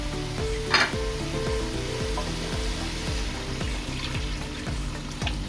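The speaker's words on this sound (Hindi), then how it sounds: "मैं इसमें थोड़ा सा पानी डालूंगी।" Water poured into a pan of beef koftas sizzles and crackles steadily while being stirred, with rhythmic scraping taps underneath; no one speaks.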